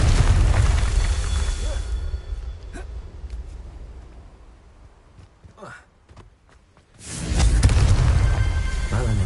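Confringo explosive curse blast in Hogwarts Legacy, a loud booming burst of fire that rumbles low and fades, followed by a quieter stretch with crackles and a second heavy roaring surge.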